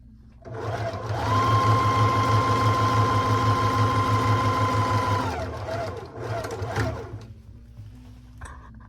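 A sewing machine stitches a lined dress in one long, steady run of close, loud whirring, slowing and stopping after about five seconds, followed by a few softer handling sounds.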